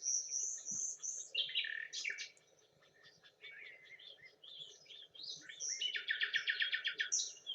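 Several wild birds sing among tree branches outdoors, with bright chirps, trills and rapid repeated notes from nearby, the calls overlapping and pausing briefly before a dense burst of song.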